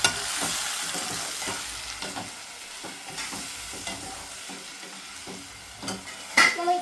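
Mango pieces frying in oil for a mango pickle, with a soft, steady sizzle broken by repeated scraping and tapping of a spoon stirring the pan, plus a louder clatter at the end.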